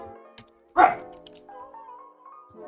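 A dog gives one short bark in a quiet room, followed by a faint lingering tone.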